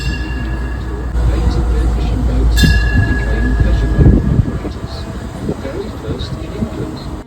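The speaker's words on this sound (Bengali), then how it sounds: "টয় ট্রেন ঘুরিয়ে আমাদের নিয়ে এলো হারবারের কাছে" A toy train runs in Torquay, a seaside town in England, with a loud, close rumble of wheels on track, a sharp metallic squeal partway through and rattling clatter, while voices can be heard faintly underneath.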